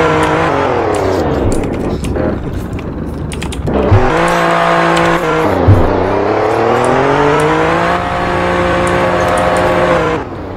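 A 2021 Alfa Romeo Giulia Quadrifoglio accelerates hard from inside the cabin, its engine roaring loud and close through rising gears, pitch climbing in sweeps with brief dips at each shift.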